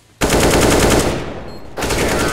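Loud automatic gunfire rattles in a Counter-Strike: Global Offensive competitive match, two long sustained bursts split by a short drop, close and harsh with no voices over it.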